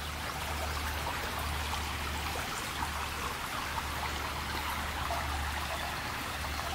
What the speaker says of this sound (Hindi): झरने की आवाज आ रही है कि नहीं?